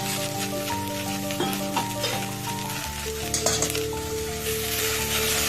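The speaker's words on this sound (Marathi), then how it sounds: "त्याला हलवून घेऊयात मिक्स करून घेऊया" Stirring roasted vegetables with peanuts and carrots in hot oil, a close continuous sizzle with scraping spoon strokes against the pan and a steady background hum, no one speaking.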